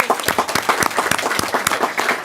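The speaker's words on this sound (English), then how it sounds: "Let's give Buffy a round of applause." Council chamber audience at a Monrovia City Council meeting applauding an honoree, a moderately sized group clapping with distinct individual claps audible in an uneven rhythm, close and fairly loud.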